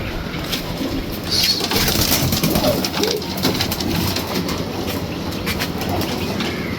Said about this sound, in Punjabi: ਸਭ ਤੋਂ 22 ਸਾਲ ਪੁਰਾਣਾ ਕਬੂਤਰ ਦੇਖੋ